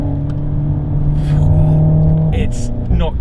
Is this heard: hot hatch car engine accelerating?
yes